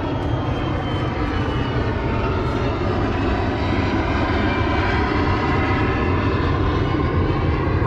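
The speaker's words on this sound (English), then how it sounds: "So you can hear us an airplane real quick." An airplane flies over near an airport in San Antonio, a loud, steady engine roar that holds throughout with no talk.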